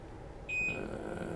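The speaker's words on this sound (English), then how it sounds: "Sorry guys for the beeping" A single short, piercing electronic beep from a device on a workbench during soldering, loud and close over a steady low background hum.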